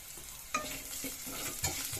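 Garlic frying in a pan with turmeric powder, a steady broadband sizzle with two sharp stirring scrapes against the pan, close and alone without talk.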